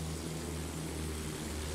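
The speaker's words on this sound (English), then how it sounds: "Plane spotted." Enemy plane in Battlefield 1, a steady droning propeller-engine hum that holds at an even level for the whole short stretch, with no break or voices.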